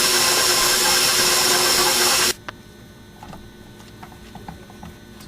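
Electric mixer blending pecan shortbread cookie dough, a loud steady broadband whir for about two seconds that then cuts off abruptly, leaving faint scraping and clicks from the bowl.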